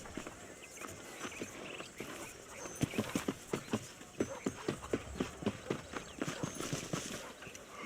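Horse hooves clip-clop at a steady walking rhythm during a ride in the Western video game Red Dead Redemption, close and fairly loud, with faint background ambience.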